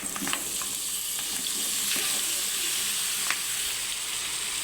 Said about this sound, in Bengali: এখন দিয়ে দেবো মিষ্টি কুমড়ো